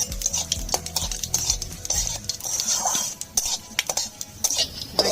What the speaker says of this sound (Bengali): এই তেলের মধ্যে ফোড়ন দিয়ে দেবো